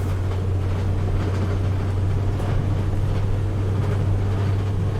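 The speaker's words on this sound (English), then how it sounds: "I'm flooring it now, and we are barely going over 30 miles an hour." A Dodge Sprinter van with a turbo underboost fault is driven at full throttle up a hill, its engine giving a steady loud drone with a strong low hum and road and wind noise throughout, no talk.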